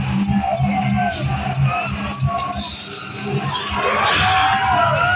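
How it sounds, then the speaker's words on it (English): A loud crowd at a BMX rally in Rio Linda cheers and whoops continuously, with high shouts and children's voices rising over a steady roar of noise. "Let's make some noise right now for Logan Plays"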